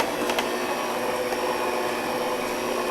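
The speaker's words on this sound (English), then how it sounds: "we're going to turn the mixer on slow" A stand mixer running on slow speed while mixing bread batter, giving a steady, close, even motor whir with faint rattles and no talking.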